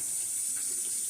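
Warm tap water running steadily into a basin, a continuous close hiss and splash with no break.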